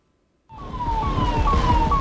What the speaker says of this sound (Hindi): आगे आगे सायरन बजाती हुई फायर ब्रिगेड की गाड़ी चली